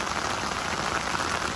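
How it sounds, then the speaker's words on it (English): Rain falls heavily at Loch Ken, a dense, steady patter of drops on surfaces nearby with no other sound. "it rains like this, it just adds to it, it's great"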